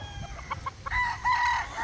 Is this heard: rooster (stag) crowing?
yes